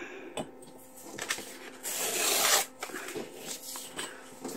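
The top of a paper pocket made from dictionary pages is trimmed by hand, with a short burst of rasping cutting about a second long among quiet rustles and light handling taps, close and soft.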